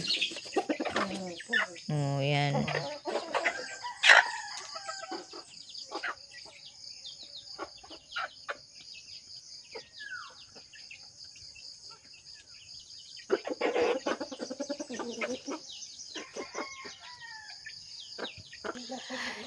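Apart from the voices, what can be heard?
chickens clucking and rooster crowing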